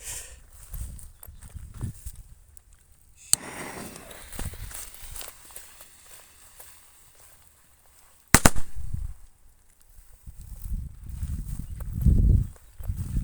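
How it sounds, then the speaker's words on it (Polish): Two Cracker C1490 firecrackers are set off together outdoors. A sharp crack is followed some seconds later by a brief, fairly weak double bang, with footsteps and low rustling between them. "po prostu odpalę dwie sztuki naraz"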